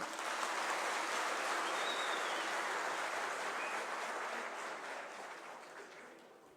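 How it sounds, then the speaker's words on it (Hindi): A crowd claps in sustained, dense applause that slowly fades toward the end. "जोरदार तालियां"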